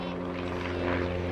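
A Starduster 2 biplane flying aerobatics at an air show, its propeller engine giving a steady, close, continuous drone that swells slightly toward the end, with no voices.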